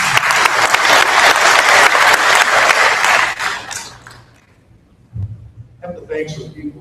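An American Legion department convention audience breaks into loud, sustained applause that holds for a few seconds, then tapers off to near silence before a voice speaks again.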